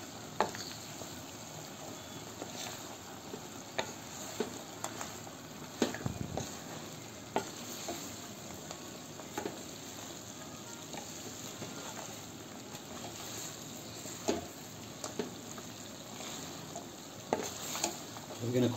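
Chikki mixture of hot sugar syrup, nuts and papdi is stirred in a pan, a steady soft sizzle and bubbling with frequent scraping clicks of the spoon, close by and continuous throughout.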